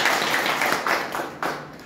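An audience clapping at a gathering on the Sundarbans, a short burst of dense applause that is fairly close and steady, with a few louder claps.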